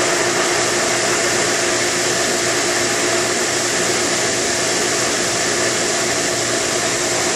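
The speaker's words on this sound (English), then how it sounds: "We see now that the pump is running a lot better than it was when I got here." A water pump running with venturi ozone injection gives a loud, steady, broadband whooshing hum that does not change for the whole stretch. It is close and constant, like rushing air and motor noise, with no talking.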